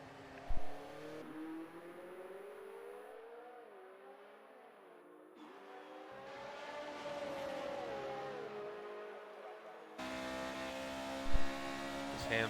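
Race car engines in an Xbox racing game of classic cars whine and rise and fall through gear changes, with several cars heard over one another and a commentator talking now and then.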